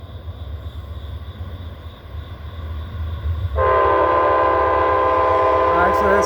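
Amtrak Auto Train 52 rolling northbound through Petersburg, Virginia: a low rumble of wheels on rails, then a loud, sustained multi-tone horn blast bursts in about halfway and holds to the end, close by.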